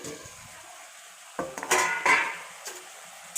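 A lid lifted off a pot of simmering fish curry, giving a brief metallic clatter and scrape after a quiet moment, then fading back to a low bubbling hush.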